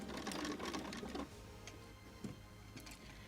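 A sewing machine stitches freeform quilt fabric curves in a short, close burst of rapid mechanical whirring, followed by quieter pauses and a couple of faint clicks.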